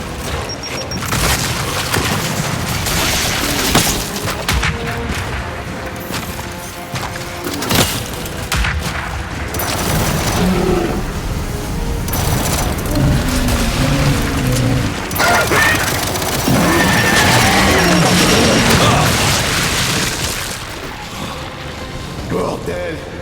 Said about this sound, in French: Est-ce que tous les transporteurs explosent comme ça?